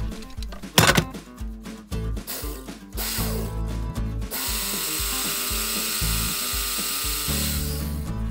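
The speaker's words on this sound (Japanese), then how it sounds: "アルミフレームにマイナス配線をつなぐため、ドリルで下穴を開けます。" A drill bores a pilot hole in an aluminum frame inside a camper van to attach a ground wire. Clicks and rattles come first, then a steady, sustained high-pitched drilling whine of moderate loudness.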